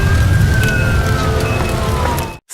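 An ambulance siren wails loudly and steadily with a slowly falling tone over a dense rumbling, rain-like wash, then cuts off abruptly near the end.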